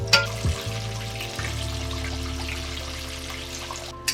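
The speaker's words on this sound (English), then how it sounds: "I'm going to start to fry the catfish" Quiet sizzling and crackling of catfish frying in hot oil, with a steady hiss and a few soft clatters at the start and end.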